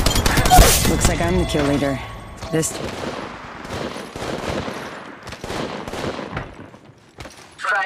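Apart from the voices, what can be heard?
gunfire in the video game Apex Legends Mobile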